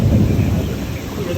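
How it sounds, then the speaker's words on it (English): Low rumbling thunder rolls through a thunderstorm, mixed with gusting wind noise and rain, a continuous dull roar over the short span. "Hear that thunder?"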